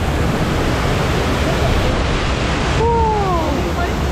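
A loud, steady rush of splashing water on the Fjord Rafting rapids ride at Europa Park fills the scene, with a brief high voice rising over the roar near the end.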